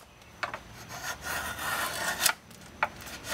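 A drawknife shaves a wooden spindle along a score line in short, close rasping strokes, several quick scraping pulls with brief pauses between them, quiet and alone.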